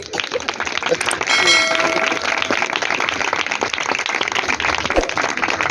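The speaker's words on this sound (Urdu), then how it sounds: "تو تالیاں ذرا زور نال بجاؤ پھر" A church congregation claps loudly during an Urdu sermon service, a thick continuous wash of hands with a ringing bell-like tone briefly cutting through and some voices mixed in underneath.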